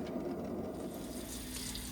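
Hot water runs from a tap in a motorhome, a faint, steady splashing hiss that flows evenly without a break.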